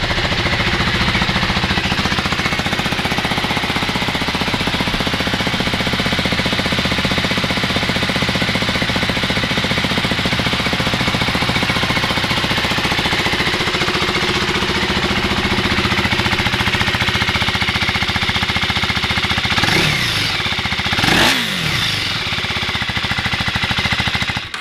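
A 2024 KTM 390 Duke motorcycle engine runs at a loud, steady idle close by, with a hard, rapid pulsing chatter, and a couple of sharper revs or knocks near the end.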